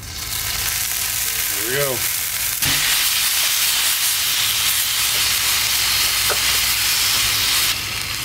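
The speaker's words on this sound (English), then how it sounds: "Now it's time to reverse sear this bad boy." A beef chuck cross rib roast sears in hot oil in a Butterball electric turkey fryer, a loud, steady sizzling hiss that fills the whole stretch, with a brief spoken remark near the start.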